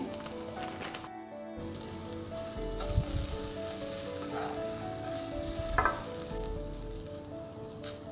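Okra fry coated with gram flour and garam masala sizzles in a pan while being stirred, a steady close frying hiss with scraping stir strokes and a couple of louder bursts, no voices.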